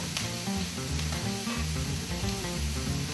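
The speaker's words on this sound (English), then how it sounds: "Cook these onions for a couple of minutes." Onions sizzle in butter and oil in a pan, a steady close hiss and crackle that runs unbroken for a few seconds with no voices.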